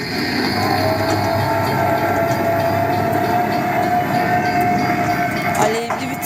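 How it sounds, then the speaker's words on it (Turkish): A kiddie locomotive ride at an indoor play center gives a steady mechanical hum and rolling rumble, with a sustained electronic tone and arcade clatter in the background; a faint voice is present. "Lokomotife bindik şimdi de biz."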